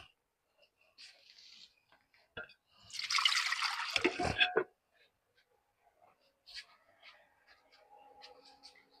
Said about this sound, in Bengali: আর একটু ঝোলের পানি দিলাম।